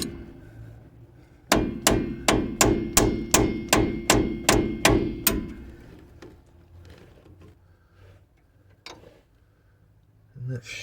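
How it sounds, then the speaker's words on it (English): Hammer tapping a wrench fitted on a stuck fitting on a vehicle, a run of about a dozen sharp, evenly spaced metallic taps, close and ringing, followed by quieter handling noises. "get this wrench on, give it some nice love taps"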